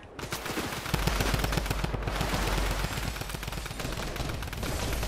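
Rapid automatic gunfire in a video game rattles out in a dense, continuous burst of close, loud shots, and the rhythmic cracks run for the whole stretch.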